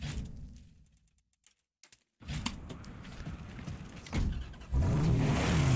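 A car drives in the Mad Max video game, engine sound fading into near silence for a moment, then returning and swelling louder with rising revs toward the end.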